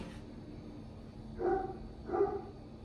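A dog barks twice in the background, short muffled yaps about a second apart, faint against a steady indoor hum.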